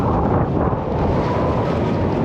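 Strong wind buffets the microphone in a constant, heavy roar aboard a sailboat heading into the wind, with a faint wash of water underneath.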